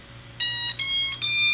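Electronic beacon beeps from the ESC motors of an ultralight quadcopter in a FlightClub PROton build, sounding three loud, close tonal bursts with short gaps between them over a quiet hum.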